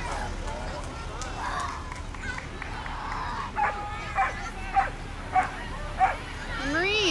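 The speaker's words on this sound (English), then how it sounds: "Attack dogs." Dogs on a Marines parade float bark in a quick series of sharp, mid-distance yaps amid outdoor crowd noise, with people talking throughout.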